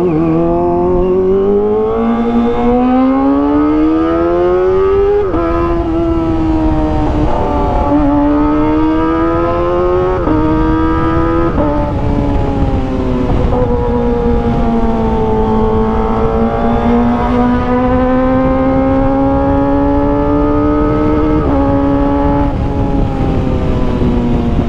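Kawasaki ZX25R sport bike fitted with an Arrow Pro Race exhaust, revving loud and close in repeated high-pitched rising and falling sweeps, screaming continuously for the whole stretch.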